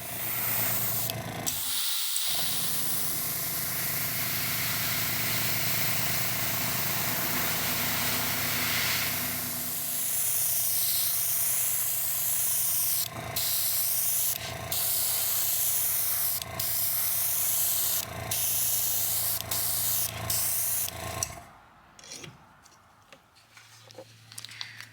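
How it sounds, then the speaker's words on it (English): An airbrush sprays red paint onto the repaired peghead of a Gibson guitar, giving a loud, steady hiss that runs for about twenty seconds with a few brief breaks, then drops away to quieter, intermittent spurts. "I'm just going to be adding some to this and just airbrush where it need to be"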